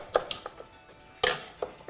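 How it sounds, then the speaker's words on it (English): Knife chopping skin-on sweet potatoes on a board: a few sharp, separate cuts spaced irregularly, one louder chop near the end, close and fairly quiet with no talking. "I'm going to start chopping up these sweet potatoes."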